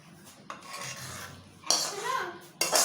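Cooked curry is tipped from a pan with a spoon scraping the metal, giving rough rasping strokes in bursts, a softer stretch, then a louder scrape and clatter near the end, close by with no talk.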